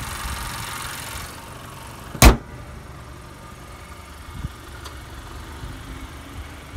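A 2017 Honda Accord Sport's 2.4-litre Earth Dreams engine idles with a low, steady rumble, broken by one sharp knock and a few faint clicks.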